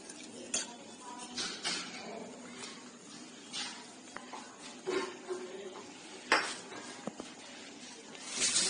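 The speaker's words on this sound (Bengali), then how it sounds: "এরপর মাওয়াটাকে দুধের সাথে আমরা ভালোভাবে মিশিয়ে নেব।" A spoon scrapes and knocks in a pot as homemade mawa is stirred into milk for malai kulfi. The strokes are faint and irregular, with occasional louder clinks over a low background.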